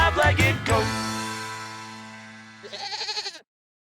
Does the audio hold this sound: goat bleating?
yes